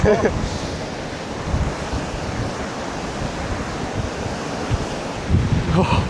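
Strong wind buffets the microphone while sea waves surge and break on the Baltic coast between Ustka and Łeba, a loud, continuous roar with gusts rising near the end.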